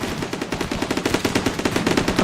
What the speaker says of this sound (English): Oh, the sound of those turrets. They sound like machine guns.